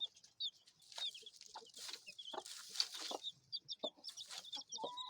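Australorp-Leghorn cross chickens clucking nearby in short, irregular bursts, several birds calling over one another with soft chirps mixed in.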